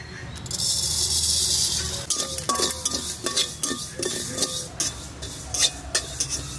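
Fennel seeds, cumin and chillies are dry-roasted in a wok, giving a close, steady hiss followed by a series of scraping and rattling stirs with a metal utensil.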